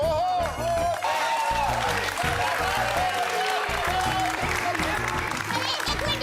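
A crowd claps in a comedy-show scene, the applause blending with a steady musical backing throughout, loud and continuous.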